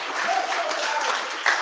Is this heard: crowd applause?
yes